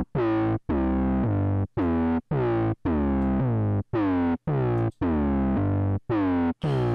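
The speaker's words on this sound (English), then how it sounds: "Modulated here the pitch with a ADSR envelope, and here you can hear the difference. It's now polyphonic, so each note has its own envelope playing." Polyphonic synth notes whose pitch is shaped by an ADSR envelope, each chord bending at its start, played as a run of distorted, chorused stabs in an uneven rhythm, loud and upfront with no talking.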